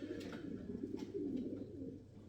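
Racing pigeons coo softly nearby, low throaty burbling repeated over a quiet background, with no talking.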